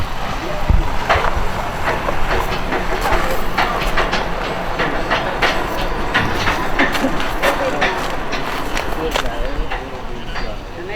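A train rolls along its rails with a steady, continuous rumble and repeated clicking from the wheels, loud and close throughout, while a person talks over it.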